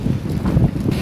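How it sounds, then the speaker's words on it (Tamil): Strong wind gusting hard against the microphone near the sea at Kanyakumari during a bicycle ride, a continuous loud low rumble and buffeting with no pauses. "சரியான காற்று இந்த காற்றுல அந்த போர்டு ஹெஜ் வேற பறந்துக்கிட்டே இருக்குது"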